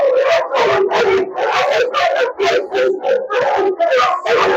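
A dog in Cairo whines and howls in a steady series of loud, close, rising and falling cries with brief breaks between them, with no voices over it.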